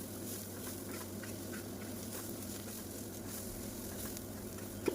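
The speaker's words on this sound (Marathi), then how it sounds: "कांद्याला गोल्डन कलर येईपर्यंत छान असं भाजून घ्यायचं आहे" Sliced onions cooking in an open pan until golden, giving a quiet, steady sizzle with faint patter and a soft clink at the end.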